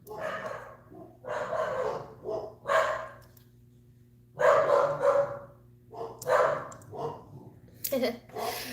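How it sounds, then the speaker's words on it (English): Several dogs bark repeatedly at a delivery person in short, excited bursts separated by brief pauses, heard at a moderate distance indoors. "the delivery guy's here, so my dogs are going to temporarily go crazy"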